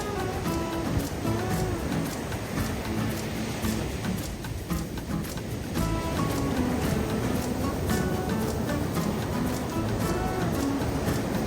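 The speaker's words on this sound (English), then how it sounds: "The waves kept getting higher and the tide was pushing in." Ocean waves surge and wash steadily onto an island shore as the tide pushes in, a dense, continuous rushing roar with no pauses.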